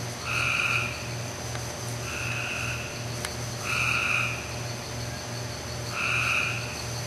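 Frogs croak in a steady rhythmic pulse, with higher trilling calls repeating every second or two over a quiet night background.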